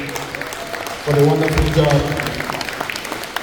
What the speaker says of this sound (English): a round of applause for the wonderful